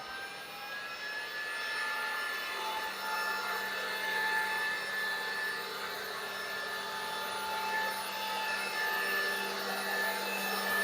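A machine spindle runs at 1200 rpm while a wooden slab is turned, giving a steady, even mechanical whine with sharp tonal lines over a constant hiss, unbroken and moderately loud throughout.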